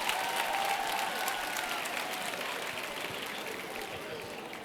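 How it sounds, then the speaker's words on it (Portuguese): Women in a church congregation applauding together, a dense steady patter of clapping that fades slightly, with faint voices mixed underneath. "só a mulher está aplaudindo."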